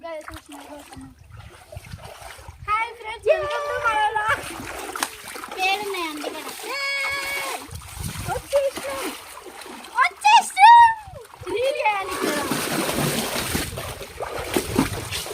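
Water splashes and churns in a pool while children and an adult talk and shout excitedly close by.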